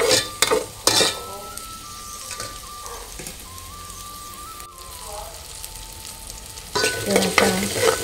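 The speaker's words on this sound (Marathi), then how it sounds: "आता हे टोमॅटो जरा शिजत इलो की नंतर त्याच्यात मसाले घालतले." Tomatoes frying in a pan for Malvani egg curry, a steady close sizzle broken by loud stirring scrapes at the start and end, with a voice talking over it.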